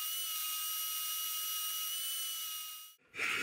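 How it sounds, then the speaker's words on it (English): A bandsaw cuts out a shape in a woodworking shop: a steady, close, high-pitched whine with bright harmonic tones runs unbroken for about three seconds, then cuts off abruptly and is followed by a brief burst of noise. "now I can cut out the shape using a bandsaw"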